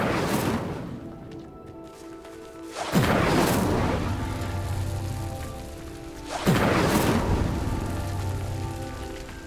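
Incendio fire spell cast at pyres in the Hogwarts Legacy video game: two loud whooshing bursts of flame, each flaring up suddenly and then roaring and crackling as it slowly dies down, with no talking.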